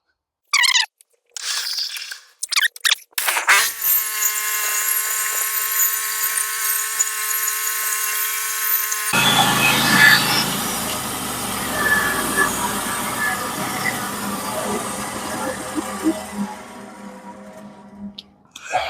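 A band saw slices through spruce wood, a loud continuous cutting whine that starts abruptly and runs steadily for about fifteen seconds, then shifts to a rougher, noisier grind before stopping.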